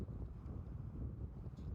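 Strong wind near a beach in Saudi Arabia buffets the microphone in low, gusty rumbles that swell and ease unevenly over a couple of seconds, with no clear talk.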